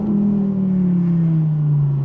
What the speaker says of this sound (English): It's a big V10, it's got an exhaust on it.